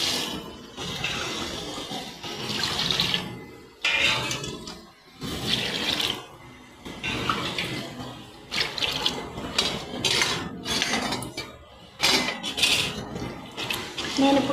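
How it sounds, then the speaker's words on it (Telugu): Water being added to a pot of country chicken for biryani splashes and pours in uneven bursts, with clinks of a metal pot and utensils between gushes, close and fairly loud. "నేను ఇప్పుడు 1 కేజీ చికెన్కి 1 లీటర్ వాటర్ యాడ్ చేసుకున్నాను"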